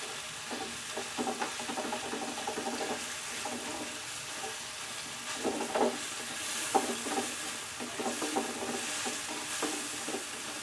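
Tomatoes cook in a pan, giving a soft, low sizzle with bursts of scraping stir strokes coming in clusters, close and fairly quiet, with no voices.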